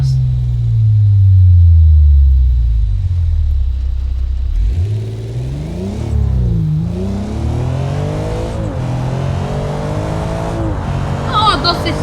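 A car engine revs and accelerates in BeamNG.drive, pitch climbing and dropping through gear shifts, with a voice talking over it at times.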